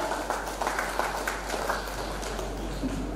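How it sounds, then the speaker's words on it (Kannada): A crowd at a hall inauguration ceremony claps together in a sustained round of applause, steady and fairly loud, with a low hum running underneath. "ಜೋರಾಗಿ ಒಂದು ಚಪ್ಪಾಳೆ"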